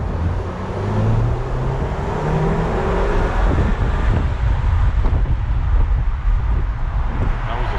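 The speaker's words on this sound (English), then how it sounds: "That was the second gear pull" A 2009 Volkswagen Eos with a six-speed pulls hard through second gear, a steady droning engine note rising beneath heavy wind and road rush, close and continuous throughout.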